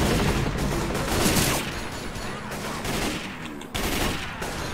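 Sustained rapid gunfire from multiple weapons in the zombie shooter Left 4 Dead 2, dense overlapping bursts and volleys at steady loudness with a brief dip before resuming.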